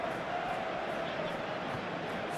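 Virtual stadium crowd at an eFootball 2024 match between Paris Saint-Germain and Real Madrid, a steady broad roar of approval held at an even level throughout without a break.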